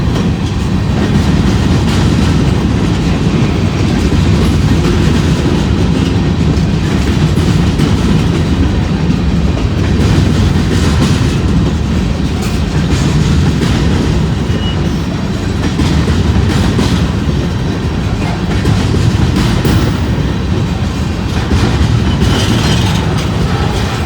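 A very long freight train of gondola cars rolls steadily past close by, a loud continuous rumble with rhythmic clickety-clack of wheels over rail joints throughout, no break in the sound.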